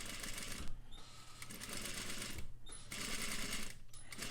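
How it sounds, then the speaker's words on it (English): A sewing machine stitches fabric along a curve, running in loud continuous whirring bursts close by, with brief pauses between runs as the stitching backs up and restarts. "I'm going to backstitch to begin with"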